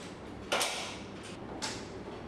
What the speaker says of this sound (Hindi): दरवाजा बंद मत कर यार